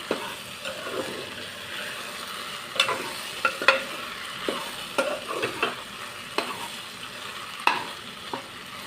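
Okra pieces fry in a pan with a steady sizzle, broken by repeated sharp clicks and scrapes as they are stirred, close and moderately loud with no talking.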